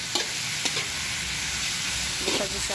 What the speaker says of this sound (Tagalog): Lagyan natin si pork. Gisa-gisa.